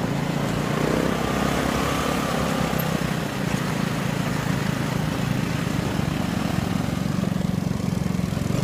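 Dune buggy engine while driving, a loud continuous rumbling drone with a buzzy, mower-like texture that holds steady close by throughout.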